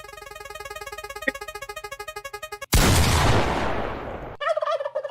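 A prize wheel's turkey gobble sound effect plays as a rapid rattling gobble, then a sharp loud burst like a shot that decays into noise, followed by another short gobbling call.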